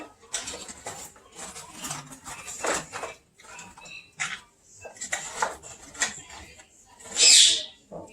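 Seasonings are stirred into a crab boil in a metal pot, producing irregular clinks and scrapes of a utensil against the pot with soft shuffling between, and one louder sharp clank near the end.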